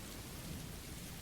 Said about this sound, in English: Matches the rain in the background